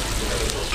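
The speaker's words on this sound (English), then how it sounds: "Mine's been going about 5 minutes, it's still sizzling." Food sizzling on a hot plate at a hotel breakfast, a steady close frying hiss that carries on alone without a break.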